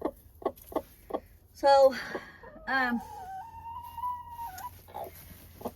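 Hens in a homestead chicken coop give scattered short clucks, then a long drawn-out squawking cackle from one bird, close and clear; a person speaks briefly near the end.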